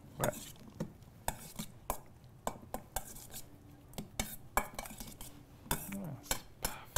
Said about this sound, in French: On ajoute, on mélange encore une fois.